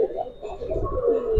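Giribaz racing pigeons coo in their loft, soft repeated rolling coos overlapping one another at close range, with a faint voice in the background.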